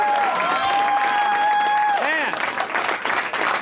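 A studio audience claps for director Jeff Bingham on a 1991 broadcast, steady applause filling the room while a host's sung or sustained voice and other voices carry over it.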